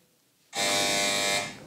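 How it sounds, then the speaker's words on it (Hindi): A quiz buzzer is pressed during a children's Islamic word-quiz show, giving one loud, steady electronic buzz that starts abruptly and holds for about a second before cutting off. "लेकिन पहले वर्ड सुनिएगा फिर बजर बजाइएगा"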